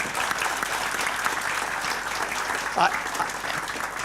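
An audience at an annual meeting applauds steadily for a few seconds, dense clapping filling the room, with a brief voice rising over it near the end.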